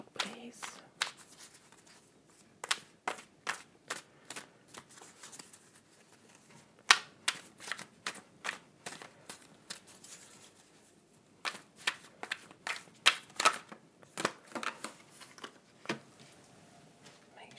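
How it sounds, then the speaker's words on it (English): Tarot cards are shuffled in quick bursts of crisp riffling snaps, pausing briefly before another run of rapid flicks, close and fairly quiet. "I'm going to start to shuffle"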